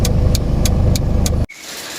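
Steady car interior drone of a family car driving home after shopping, constant engine and road rumble with periodic higher bursts, cutting off abruptly near the end to a quieter hum.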